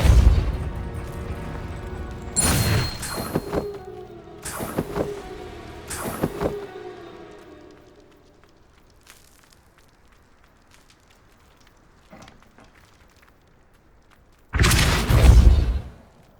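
Confringo spell explosions in Hogwarts Legacy hit as several sharp, booming bursts close together early on, then quiet footstep-like movement, before one last heavy blast near the end.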